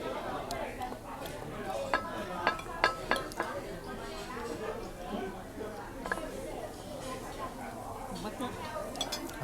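Cutlery clinks and scrapes against a plate while someone finishes a meal in a Hong Kong restaurant, sharp intermittent taps and scratches over a continuous murmur of diners chatting in the background.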